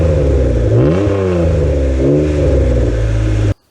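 A Honda NSX NA1 engine revs up and down twice through its exhaust, a loud, close, rising and falling note that cuts off abruptly at the end.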